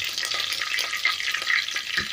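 Curry leaves frying in hot oil with star anise and cardamom for a mutton curry crackle loudly and close up, with busy stirring scrapes throughout and no voices.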